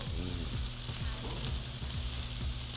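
Meat sears in a hot pan in a Caribbean kitchen, a steady crackling sizzle with a low hum underneath and occasional sliding scrape sounds, faint and continuous with no voices.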